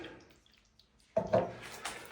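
Water is poured into bottles: after a quiet start, a sudden splashing pour begins and continues as a soft gurgling trickle, close and unaccompanied by speech.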